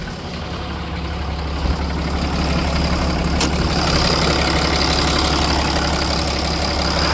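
A 2012 RAM 5500 standard cab dually truck with a 6.7L Cummins diesel idling, a loud, steady low rumble with a constant clattering hum close by, unbroken throughout.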